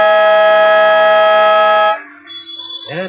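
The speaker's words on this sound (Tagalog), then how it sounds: "Buzzer na lang maririnig." A loud, harsh basketball buzzer blares steadily for about two seconds to end the quarter, then cuts off into a quieter room, with a voice starting at the very end.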